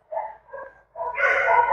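A dog practising a chin rest during training gives two short whines, then breaks into louder, sustained barking close by, with no talk.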